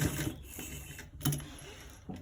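A sewing machine stitching a collar roll neck runs in a continuous close whir, with brief dips and surges in speed over a couple of seconds.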